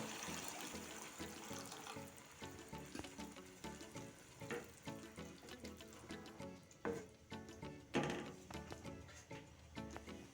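Water poured into a pan of green peas and masala, with a sizzling, bubbling splash and stirring scrapes, close and quiet with no talking.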